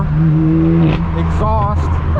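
A straight-piped BMW M4 F82 roars loudly with a deep, steady exhaust drone, the revs shifting midway, while someone talks over it.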